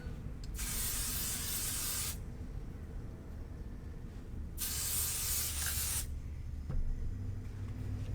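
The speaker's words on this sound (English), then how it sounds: "I'm just going to spray my fabric" 505 adhesive spray aimed at quilting fabric for placemats: two steady, loud hissing bursts of about one and a half seconds each, separated by a quiet pause, with no talking.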